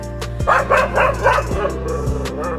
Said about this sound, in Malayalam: കെനൽ ക്ലബ് ഓഫ് ഇന്ത്യ അംഗീകരിച്ചിട്ടുള്ള വേട്ടപ്പട്ടികളുടെ ഇനത്തിൽപ്പെട്ട നായവർഗമാണ് രാജപാളയം